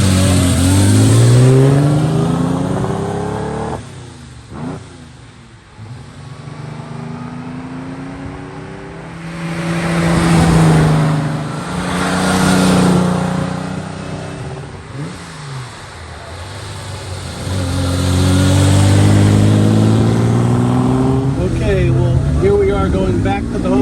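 A 1950 Ferrari 195 Inter with Vignale coachwork on the road, its engine rising and falling through revs and gear changes, heard from inside the car with someone talking over much of it.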